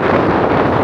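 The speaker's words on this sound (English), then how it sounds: "Still windy." Strong, steady wind gusting around thirty miles an hour across open Montana prairie, buffeting the microphone with a dense, constant roar and no voices.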